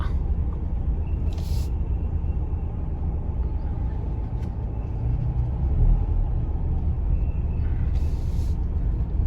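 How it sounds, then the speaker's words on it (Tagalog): Congested road traffic in Antipolo near a school on the first day of classes, with a steady low engine rumble of idling cars and buses and two brief hissing air-brake bursts. "Tapos dito sa likod, traffic pa rin, buhol-buhol na traffic."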